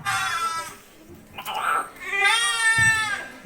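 Sheep in a rural Nativity play scene let out wavering, quavering bleats, fairly close and loud, with a pause between calls and voices faintly around them.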